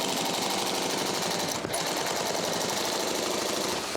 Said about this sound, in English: I just got a fresh bobbin in here, and I'll continue to bind these seams.